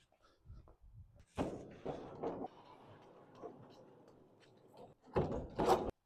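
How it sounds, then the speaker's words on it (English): Large aircraft hangar doors close in a series of clanks and thuds, with a rumbling slide in between and heavy bangs at the end, nearby. "Close the doors."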